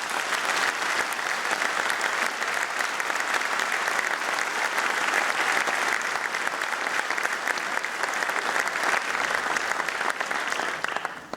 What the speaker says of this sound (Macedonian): ве молам за еден огромен аплауз